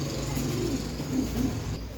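A fancier's pigeon, one of a pair priced at 1000 rupees, gives a few soft, low coos over a steady background hum.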